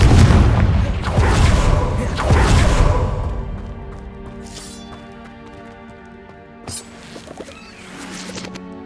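A Confringo spell blast goes off in Hogwarts Legacy, a booming explosive burst with a long ringing decay, followed by quieter magical chimes and a smaller crackling pop.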